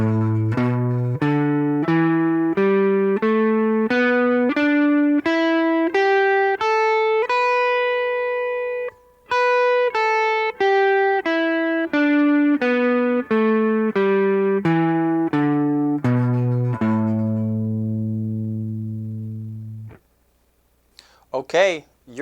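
Pentatonic scale pattern 3 played on guitar as a clean run of single notes, climbing and then descending in an even, steady rhythm, each note ringing clearly. A short pause falls midway, and the run ends on a held low note followed by brief silence.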